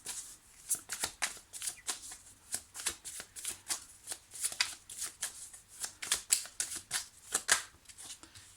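Oracle cards are shuffled by hand in a quick, repeated riffle of crisp papery slaps, close and steady for several seconds, with no talking over them.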